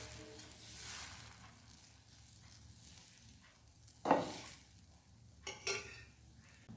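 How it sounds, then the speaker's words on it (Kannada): An instant masala dosa cooks on a hot griddle with a soft, low sizzle throughout, broken by a couple of sharper scraping and spattering bursts near the middle and end. "ದೋಸೆ ಹಾಕೊಂಡ್ಮೇಲೆ ಇದಕ್ಕೆ ಈಗ ಮೇಲ್ಗಡೆ ಸ್ವಲ್ಪ ತುಪ್ಪ ಹಾಕ್ಕೊಳ್ಳಿ."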